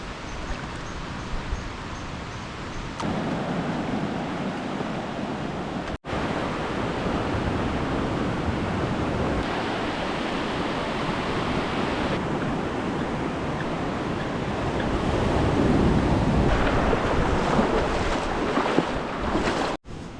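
Continuous broad rushing of water and waves at the back of a beach where rivers flow in from behind, steady and fairly loud with slight swells in intensity and no voices.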